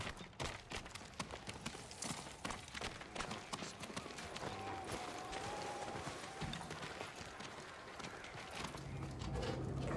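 Horse hooves clip-clop in Ghost of Tsushima, a rhythmic trot of fairly close steps over steady ambient background, fading into a calmer stretch with soft game ambience and no clear talk.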